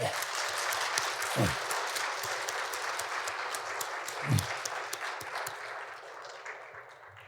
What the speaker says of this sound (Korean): 우리 감사와 격려의 박수 한번 드리겠습니다